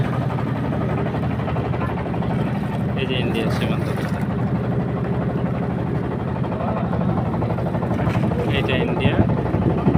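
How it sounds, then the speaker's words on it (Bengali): A small trawler boat's engine drones steadily as it is pushed across a shallow river at the India–Bangladesh border, continuous and fairly close, with people talking over it throughout. "জোর দিয়ে ঠেলে ঠেলে ট্রলার পার করতেছে।"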